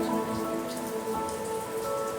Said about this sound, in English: It's just rained for days.